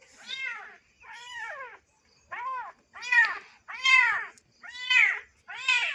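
A cat and her kitten meow repeatedly, seven distinct rising-and-falling calls in a loose rhythm, close and clear with short silences between them.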